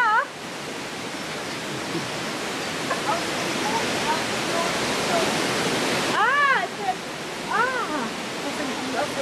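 A river in the Black Forest flows in a steady, fairly soft wash of water, while voices call out and shout over it now and then.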